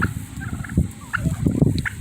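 Turkeys in a small backyard flock raised for selling poults gobble and cluck in repeated bursts, fairly close, with overlapping calls across the whole stretch and no talking.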